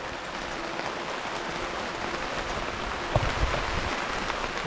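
Steady rain falls on a lake during a fly-fishing trip in the Okanagan/Thompson region, giving a soft, even hiss throughout with a couple of faint thumps partway through.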